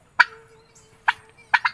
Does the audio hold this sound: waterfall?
no